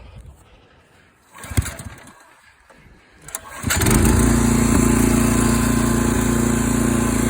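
After a couple of quick pull-cord tugs and faint birdsong, the engine of a Skag 30-inch walk-behind mower sputters to life and settles into a loud, steady idle.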